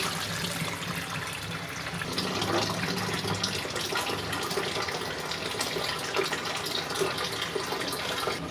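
Rice is rinsed in water in preparation for prawn biryani, giving a continuous close swishing and trickling of water that runs steadily throughout without pause.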